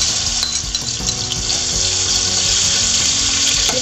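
Spice paste for Betawi-style pesmol fish stir-fries in oil, making a loud, continuous close-up hiss with low stirring knocks and scrapes underneath and no voices.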